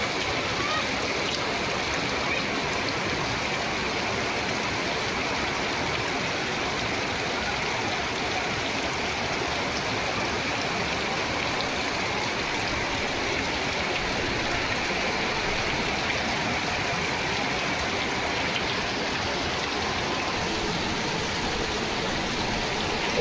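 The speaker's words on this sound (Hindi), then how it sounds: "भयंकर तेज बारिश।" Very heavy early-morning rain pours steadily over a village, a dense, constant roar of falling water that stays loud and unbroken throughout with no pauses.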